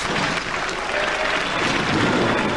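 Robot Wars studio audience reacts with a loud, continuous wash of crowd noise and clapping that holds steady for a couple of seconds with no talk over it.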